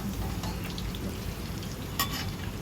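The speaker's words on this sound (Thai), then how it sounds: "อันนี้เป็นหมูยอนะจ๊ะไปชุบแป้งทอดค่ะ" Battered Thai pork sausage (moo yor) deep-frying in hot oil gives off a dense, steady sizzle and crackle, close and continuous, with a brief louder pop near the end and no talk.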